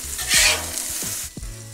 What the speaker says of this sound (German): Die Zwiebeln nehme ich dann und gebe sie dann mit ein kleines bisschen geklärter Butter auf die Grillplatte.